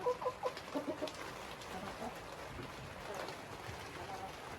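Hens clucking in an enclosure made to feel like free range, a few sharp clucks at the start and then quieter bird sounds over steady background noise.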